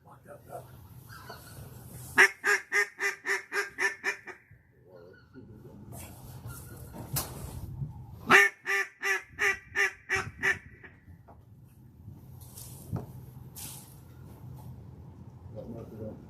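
Ducks quack in two rapid rhythmic bursts of about seven calls each during a duck hunt at Cache River Woods near McCrory, Arkansas, loud and close, with people talking around them outdoors.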